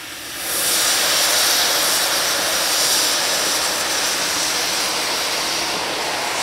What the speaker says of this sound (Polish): Słyszeliśmy przed chwilą przy odwiercie dźwięk dwutlenku węgla, który wypychał wodę na zewnątrz.